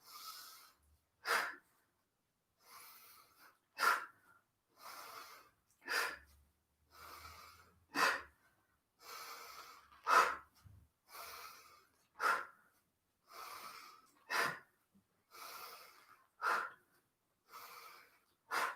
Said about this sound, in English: Exhale it out.